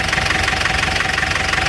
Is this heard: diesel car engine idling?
yes